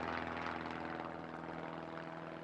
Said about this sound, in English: A plane reaches the right area within 10 minutes.